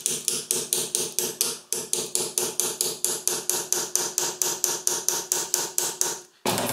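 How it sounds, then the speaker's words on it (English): Leather being hammered on a heavy piece of metal for a steampunk mask, a long run of evenly spaced sharp metallic blows, about three to four per second, close and loud with one brief pause partway through. "Better to hammer it on a heavy piece of metal."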